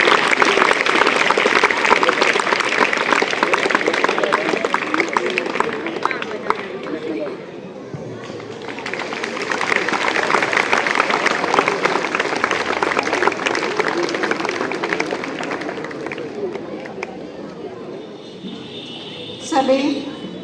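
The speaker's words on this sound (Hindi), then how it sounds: "जोरदार तालियां" Loud applause with crowd chatter at an Independence Day function in a government model senior secondary school, honouring a former student as chief guest; dense clapping fills the hall, eases midway, then swells again before fading.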